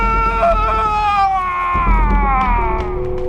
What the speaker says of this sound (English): the snake attacks one of Johnny's men, and not only makes him do an unnecessarily long scream